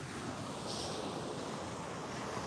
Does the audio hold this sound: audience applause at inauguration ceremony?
no